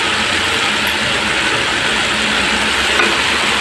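Beetroot and carrot palya fries in a pan, giving a loud, steady, dense sizzle with continuous scraping and stirring noises as the vegetables are mixed together.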